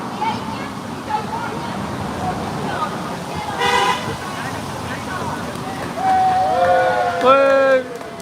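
Car horns honking at a street protest in Oldham, several toots and longer blasts from passing vehicles mixed with traffic noise and people talking.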